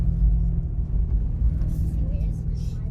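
Car driving over a heavily corrugated dirt road into Warroora Station in Western Australia, a steady loud low rumble of tyres and body vibration running continuously throughout with no talk.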